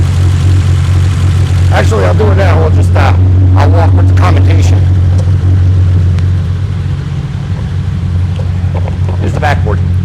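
A 1972 BMW 2002 with a start-and-run fault idles loud and close, a steady deep drone throughout. A person talks over it.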